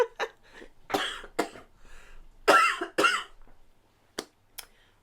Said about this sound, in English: this cough is hanging on